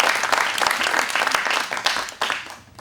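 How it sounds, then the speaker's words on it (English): Audience applause at a magic show: a dense, steady burst of clapping from a seated crowd, fairly close, that thins out and fades toward the end. "Big round of applause for Scott."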